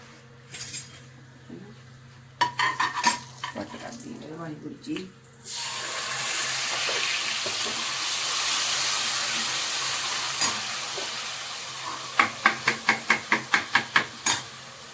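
Cumin seeds tempering in hot oil for potato curry: after a few pot and utensil clanks, a loud, broad hiss erupts and sizzles steadily for several seconds, followed by a rapid series of metallic taps, with someone talking early on.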